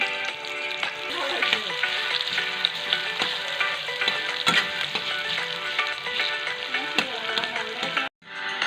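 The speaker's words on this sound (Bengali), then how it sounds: "পেঁয়াজ দিয়ে দিলাম, পেঁয়াজটা ভালো করে ভেজে নেব।" Onions fry in oil in a kadai for a sour fish-roe curry, giving a steady, close sizzle with scattered crackles and the odd scrape of stirring, then a sharp break near the end.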